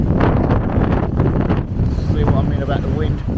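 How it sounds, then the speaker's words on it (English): Strong, cold wind at the seaside in Konyaalti roars and buffets the microphone without a break, a loud, continuous rumble. "see what I mean about the wind"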